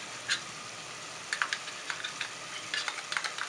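A spoon stirs tomato sauce into rabbit cooking in a pan, with soft, irregular scraping scrapes and a steady low sizzle, quiet and close.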